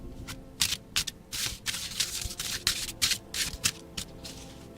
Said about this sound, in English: I love how this deck shuffles